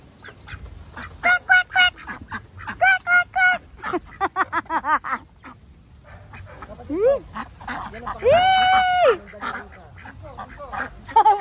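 Ducks quack and honk in repeated bursts close by among chickens and goats, with a long drawn-out call near the end; some voices are mixed in with the birds.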